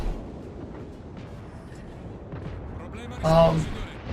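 Naval artillery fires in a warship video game as high-explosive shells come in around a Duca d'Aosta cruiser. One deep boom bursts near the end over a low, rumbling battle background.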